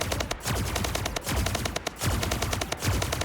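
Rapid automatic weapon fire from a shooter game, a dense stream of sharp, evenly spaced shots that continues without pause, loud and close.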